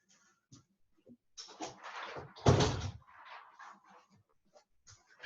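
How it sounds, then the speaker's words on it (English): A house door swings and shuts with one solid thud in the middle, set among quieter rustles and small knocks of movement nearby. "I'm going to close this door real quick."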